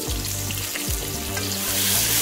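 Prawn chow mein ingredients sizzle loudly in a hot pan with black pepper and mushrooms, a steady close frying hiss broken by scraping stirs and tosses, with no talking.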